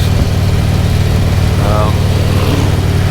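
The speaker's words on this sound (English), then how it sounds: "You know, this cam runs rough at idle, but it really smooths out." A motorcycle engine fitted with an S&S 465 cam idling roughly, a loud steady low rumble with uneven pulses that fills the whole stretch while someone talks over it.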